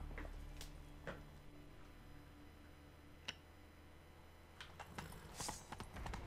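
Horse hooves clip-clopping in the video game Witcher 3: faint, sparse hoof beats and a few sharp clicks over a steady low game ambience, with no talking.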